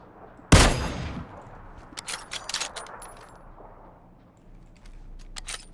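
A sharp, loud gunshot cracks out in PUBG on the Miramar desert map, followed by a string of quieter clicks and small mechanical clatters with a fading tail, and no voices.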